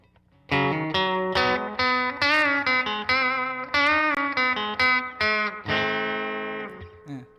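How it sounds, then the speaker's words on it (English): Stratocaster with a Seymour Duncan bridge pickup through a clean amp, with an analog delay pedal and the amp's spring reverb: a run of bright picked notes and chords, close and loud, ending on a long ringing chord that fades. "Let's just start with the bridge pickup."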